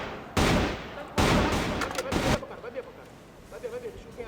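Bursts of rapid automatic gunfire from the video game CrossFire in a competitive esports match, with loud sustained volleys followed by quieter scattered shots under a commentator's talk.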